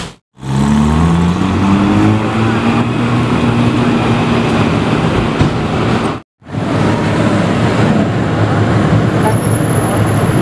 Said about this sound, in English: I can hear that exhaust.